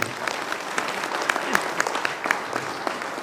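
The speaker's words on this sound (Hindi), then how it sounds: "जोरदार तालियां होनी चाहिए आपकी" Applause from an audience at a business seminar, moderately distant clapping with a few sharper individual claps standing out and faint voices underneath.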